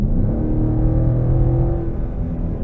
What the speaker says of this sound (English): Just really strong exhaust note there, even with the stock exhaust.